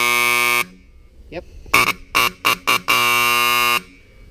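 A federal police cruiser buzzer alarm blares in harsh, steady tones: one long blast, a string of short rapid pulses, then another long blast, loud and close, with a brief word spoken in a gap.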